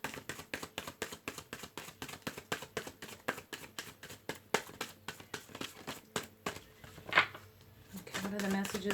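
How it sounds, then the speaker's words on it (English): Tarot cards shuffled by hand in a steady run of quick, crisp riffles and slaps, close and fairly soft, ending with a brief murmur of a voice. "Okay, one last shuffle."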